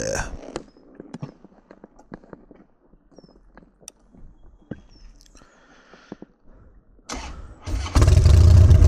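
A Harley-Davidson Dyna Fat Bob with a 96 cubic inch engine cranks and fires near the end, bursting into a loud, rumbling idle after several seconds of quiet shuffling and clicks.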